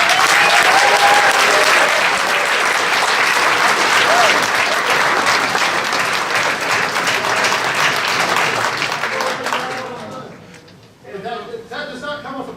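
Audience applause fills a high school wrestling banquet, dense and loud for about ten seconds before fading out, followed by a short stretch of quieter room noise.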